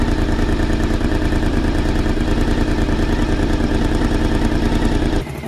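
An old Honda VFR 750 motorcycle engine runs close up at idle, loud and steady with a rapid, even mechanical throb and clatter, dropping off abruptly at the very end.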